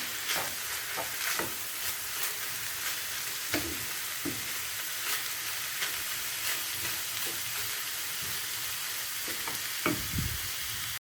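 Onions and minced meat sizzle steadily in a hot pan for içli köfte filling, with occasional scraping and stirring clicks, close and continuous.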